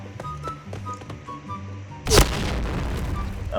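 A grenade detonates in the video game Insurgency: Sandstorm, a sudden loud boom with a rumbling tail that follows a stretch of quieter game sounds and faint background noise.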